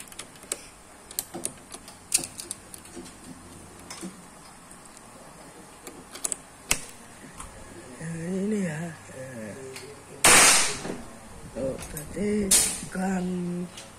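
An FX Crown PCP air rifle fires, with two sharp, bright bursts standing out over faint ticking and clicks of handling, while a person talks nearby.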